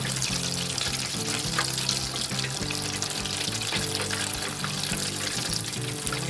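Potato croquettes with a melting cheese centre fry in hot oil, a loud, continuous bubbling sizzle with dense crackling pops close by, no talking.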